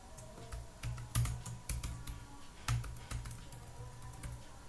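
Keys clatter on a computer keyboard as a password is typed in, a quick series of light clicks in uneven bursts, with a few firmer keystrokes standing out, close and fairly quiet against a faint steady hum.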